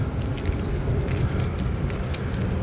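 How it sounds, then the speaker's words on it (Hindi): Car keys jangle steadily in the hand over a dense, continuous rumble, close to the microphone and fairly loud, with no talking. "चाबी गाड़ी करेंगे ऑन।"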